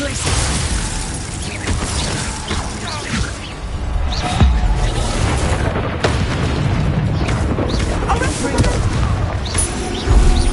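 Bombarda explosion spells blast repeatedly in a Hogwarts Legacy duel, dense booming bursts and crashing impacts layered continuously over one another, loud and close, with spoken combat lines mixed in.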